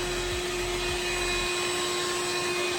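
A shop vac runs steadily at close range while cleaning debris out of a 1977 Datsun 620 dually truck camper, a continuous whining roar with a faint low thump early on.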